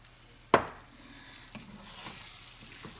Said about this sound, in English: And just mix this until it's nice and scrambled and done.